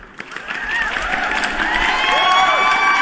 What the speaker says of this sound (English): Let me give you guys another round of applause